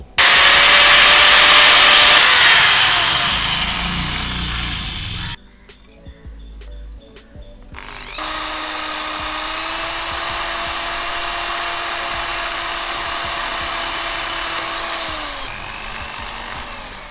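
A power tool, a hacksaw blade or grinder, cuts through PVC pipe with a loud, steady whining roar that eases off, breaks for a few seconds of near quiet, then resumes as a level, sustained drone.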